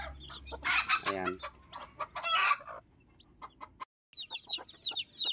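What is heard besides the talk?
hen clucking with chirping chicks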